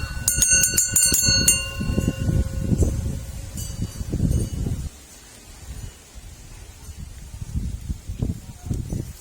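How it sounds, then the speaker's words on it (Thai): Small temple bell ringing near the start in a quick run of bright, overlapping metallic chimes that fade after a couple of seconds, followed by rustling and handling noises. "กระดิ่งระฆังเล็กๆนะครับ"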